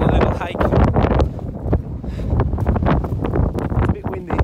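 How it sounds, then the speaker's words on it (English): Strong gusting wind buffets the microphone on a morning hike in the Faroe Islands, a loud continuous roar with rumbling surges throughout. "It's a bit windy."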